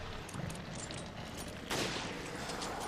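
Sniper rifle shot in the Resident Evil Revelations Raid Mode Trench stage: a sharp, loud crack at the midpoint over a dense background of game ambience and clatter.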